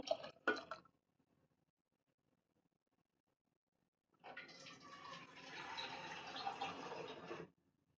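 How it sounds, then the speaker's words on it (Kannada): Water pours into a pot of moong dal with palak and green chillies, a few sharp clinks first, then after a quiet gap a steady splashing pour lasting a few seconds, close and clear. "ಇನ್ನೊಂದು ಸ್ವಲ್ಪ ನೀರು ಹಾಕ್ತಾ ಇದ್ದೀನಿ"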